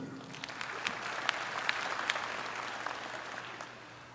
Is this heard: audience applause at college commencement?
yes